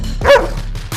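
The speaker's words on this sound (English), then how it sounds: "They're barking, Robert." A dog barks once in a sound effect, a single sharp, close bark that stands alone with no talking.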